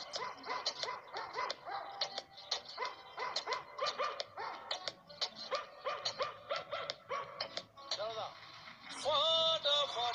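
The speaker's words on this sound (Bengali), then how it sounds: "তোর থেকে ভালো আমাদের পাড়ার লেলি কুত্তারা ভালো গান গায়, শুনবি শুনবি তুই" Dogs sing-howling in a played recording, with repeated rising yelps and barks throughout, plus a sustained whine near the end.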